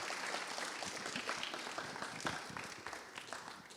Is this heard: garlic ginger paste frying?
no